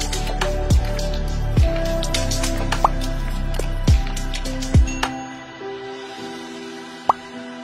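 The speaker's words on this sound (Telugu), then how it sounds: "సరుగుడు ప్రాంతానికి ఆనుకొని కొండల మధ్య ఉన్న ఈ వాటర్ ఫాల్ ఒక మంచి ఫ్యామిలీ పిక్నిక్ ప్లేస్" A waterfall set among hills near Sarugudu gives a steady watery rush, with loud close plops and drips rising over it in the first five seconds; then it fades to a quieter wash, and one last sharp drip lands near the end.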